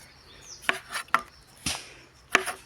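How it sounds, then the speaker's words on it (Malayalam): A knife chops two small tomatoes on a cutting board while a chicken curry is being prepared; four sharp, close chops land in an uneven rhythm with brief pauses between them. "ഇതുകൂടി ഒന്ന് അരിഞ്ഞെടുക്കാം."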